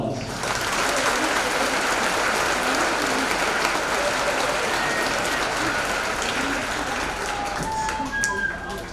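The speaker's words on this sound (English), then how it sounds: "Please give them a round of applause." A large audience applauds at a high school graduation ceremony, with loud, continuous clapping from many hands that holds steady for the whole stretch.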